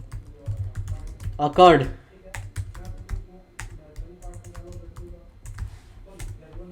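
Rapid keystrokes on a computer keyboard while Java code is typed for a merge-intervals array problem, a steady clatter of clicks running under a person talking throughout.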